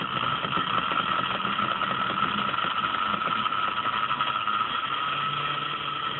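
A magnet motor spins at increased speed, giving a steady, continuous mechanical whir with a constant hum that runs evenly throughout without pauses.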